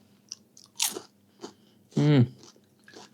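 Close, crisp crunches of someone biting into oven-baked rice-paper rolls filled with banana and jam, with a few light bites and one loud, crackling crunch about two-thirds through.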